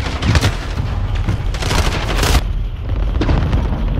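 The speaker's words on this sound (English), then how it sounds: "I just dropped a VTOL on these kids" VTOL airstrike explosions in Call of Duty: Modern Warfare, a loud run of booming blasts and rapid gunfire-like bursts rolling continuously, with a big burst near the end and no talk.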